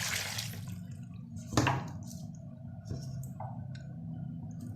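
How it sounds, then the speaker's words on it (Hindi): A glass of water poured into a cooking pot of chopped turnip, a soft splash and trickle with a sharper burst midway, then faint drips and a clink in a quiet kitchen. "साथ ही इसके ऐड कर लेंगे 1 गिलास पानी"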